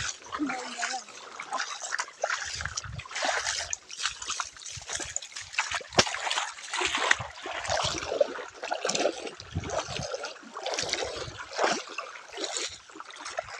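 Feet splash through standing water on a waterlogged path in steady, irregular bursts, with people talking over the sloshing throughout.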